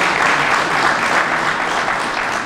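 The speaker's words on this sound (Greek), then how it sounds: "ένα μεγάλο ευχαριστώ για το χειροκρότημά σας" Sustained applause from a large crowd at an outdoor political rally in Makrakomi, West Phthiotis, a dense, steady clatter of many hands close by that holds evenly throughout without any voices.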